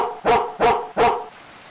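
A dog in a rain-soaked video game barks three times in even succession, close and loud, then falls quiet.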